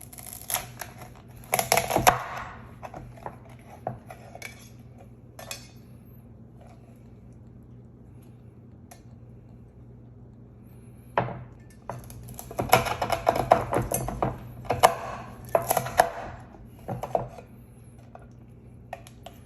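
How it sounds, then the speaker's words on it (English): Lobster tails are chopped into pieces on a cutting board in a restaurant-style kitchen, with sharp, clustered knife knocks in two bursts separated by a quiet stretch. "1 lobster tail I'm basically cutting into 3 pieces"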